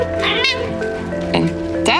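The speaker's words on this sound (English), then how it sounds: "that's my cat saying I should explain more" A pet cat meows several times up close. The cries are loud and drawn out with a slight rising and falling pitch, and a person's voice runs underneath.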